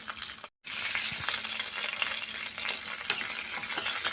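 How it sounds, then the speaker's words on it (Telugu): Cumin seeds and curry leaves frying in oil in a pan while being stirred, a steady close sizzle and crackle with scraping, a brief gap near the start, no talking. "జీలకర్ర ఇంకా కరివేపాకు కూడా ఇప్పుడే వేసేసుకుందాం ఓకే వీటన్నిటిలో ఒకసారి కలుపుకుందాం"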